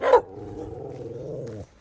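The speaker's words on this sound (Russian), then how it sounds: "Сердитый пес." A dog gives one short bark, then a sustained low growl lasting over a second, close and fairly loud, with no talk.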